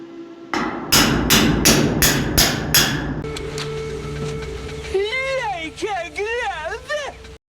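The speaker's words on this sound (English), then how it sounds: "Knock them in with a hammer" A hammer knocks steel rod slivers into a bulk cattle and sheep feed bin built from scrap metal, giving about six quick, loud, ringing taps in a row, followed by a low hum and wavering, voice-like sounds.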